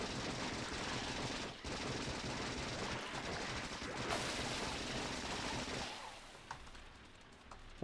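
A gun fires in dense, continuous bursts at enemies in the Factorio video game, a rattling barrage that carries on for several seconds before thinning into quieter mechanical noise.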